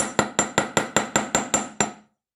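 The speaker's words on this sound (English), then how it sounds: "I'm using a large face hammer" A large face hammer beats wire flat for wirework jewelry, landing about nine sharp, evenly spaced metallic strikes in quick rhythm, loud and close, with no talking.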